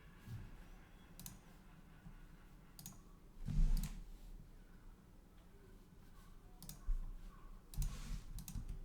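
Scattered light clicks of a computer mouse, a few sharp taps spread over several seconds against quiet room noise with no talking.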